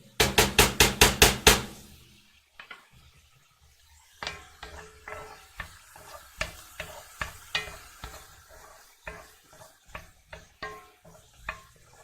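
Mushrooms cooking in a pan for a very hot chili give a few loud opening clacks, a short quiet gap, then scattered near sizzling crackles and scraping stirs in uneven bursts, with no talking.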